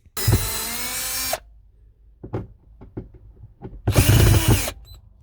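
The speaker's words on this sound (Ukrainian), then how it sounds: "Беремо шуруповерт і крутимо." A cordless screwdriver drives screws in a car interior in two short whirring bursts, with light knocks and clicks between them.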